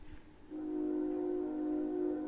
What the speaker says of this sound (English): As you can hear, the train is going by.